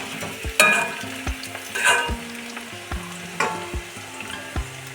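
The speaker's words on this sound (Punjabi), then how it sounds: "ਗੋਭੀ ਨੂੰ ਆਪਾਂ 5 ਮਿੰਟ ਫਰਾਈ ਕਰ ਲਿਆ" Cauliflower pieces fry in oil in a pan over a medium flame, a steady sizzle broken by repeated stirring scrapes and clanks at a close, moderate level.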